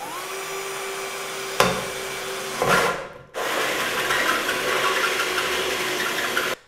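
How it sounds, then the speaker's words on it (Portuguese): Drilling a hole with a power drill, a steady close whirring that bites in, pauses briefly and then runs again for several seconds before stopping. "A gente vai fazer um furinho aqui"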